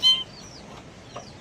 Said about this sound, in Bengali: ওই যে মুরগির বাচ্চারা।